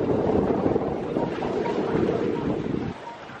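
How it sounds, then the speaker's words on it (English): Wind buffets a microphone at Johns Pass beach, a loud, rough, gusting rumble that stays close, then drops sharply near the end. "We probably got a lot of wind in here."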